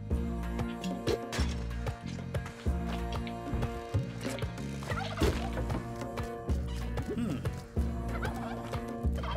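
A turkey gobbles repeatedly in the video game Spelunky 2, its rapid warbling calls sitting over busy, loud game music and sound effects throughout.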